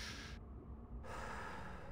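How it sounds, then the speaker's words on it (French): Someone snoring: a quiet, brief snorting breath with a raspy, airy texture, heard alone for about two seconds. "Qui est-ce qui ronfle comme ça?"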